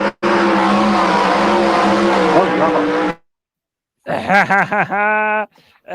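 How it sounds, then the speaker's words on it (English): Tractor engines at a tractor pulling event roar loudly for about three seconds, cut to silence, then rev again in several sharp, rising bursts followed by a sustained howl and a final short blip. "Tractor pulling event, man."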